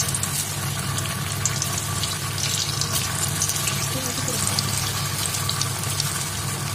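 Pitha made from sweet potato and mung dal frying slowly in very hot oil, giving a steady, dense sizzle and crackle that stays even throughout, close by.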